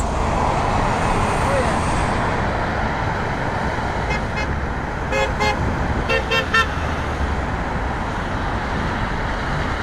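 Several car horns toot in short bursts around the middle, a few overlapping honks amid steady loud traffic and road noise near Appleby Line and the QEW highway, with faint voices in the background.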